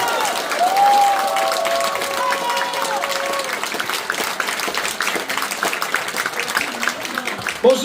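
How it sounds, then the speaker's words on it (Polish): A political rally crowd applauds in rainy weather in a steady, dense wash of clapping that follows a brief amplified vocal tone at the start. "Chciałbym prosić o wielkie brawa dla nich, bo są przed budynkiem, są z nami."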